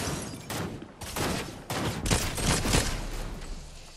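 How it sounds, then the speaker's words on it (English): Rapid bursts of gunfire in the Fortnite Chapter 4 battle royale game, several loud volleys and single shots crackling in quick succession, close and sharp with no talking over them. "Where else am I getting shot at from?"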